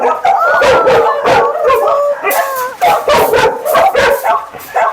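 Several dogs, including a Labrador, bark and yelp close by in quick irregular bursts at an animal shelter property, mixed with whining, howling yips and voices talking.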